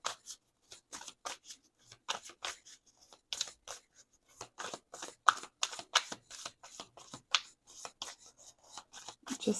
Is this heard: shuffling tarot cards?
yes